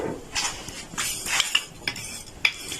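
Lentils go into a metal cooking pot in a Moroccan kitchen, giving a few scattered clinks and rattles against the pot with faint stirring and light sizzle between them, close and fairly quiet.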